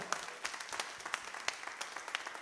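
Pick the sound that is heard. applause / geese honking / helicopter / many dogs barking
applause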